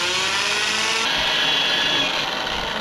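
A handheld drill spins a polishing pad against a plastic headlight lens, giving a steady, continuous whir that stays loud and close from start to finish, with a slight shift in pitch partway through.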